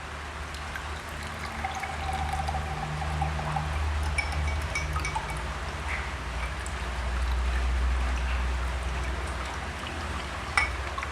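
Evaporated milk poured into a mixed drink, a steady liquid pour with a low continuous gurgling rush lasting several seconds, close and fairly loud, without talking.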